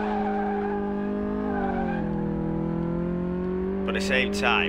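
Katagiri Katsumoto car with 300 brake horsepower and front-wheel drive, driven in Car Mechanic Simulator 2018, a steady droning engine tone sliding slightly in pitch, close and loud, with someone talking briefly near the end.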